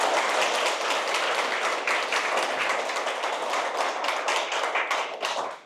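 A seated audience at a Friday evening meditation talk claps steadily for several seconds, a dense, loud wash of many hands that tapers off at the end.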